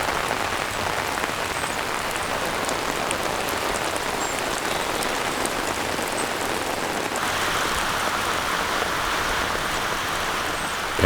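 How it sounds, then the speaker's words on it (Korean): Cool summer rain falls steadily on a pear orchard valley, a dense, even hiss of drops on surfaces that continues without pause and gets slightly brighter partway through. "배나무걸에 시원한 여름비가 더위를 식혀줍니다."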